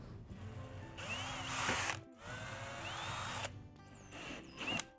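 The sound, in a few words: power drill drilling holes in bumper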